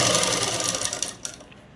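A sewing machine runs a straight seam on a dress, a fast dense mechanical chatter that holds steady and then slows and stops near the end, close and loud with no talking.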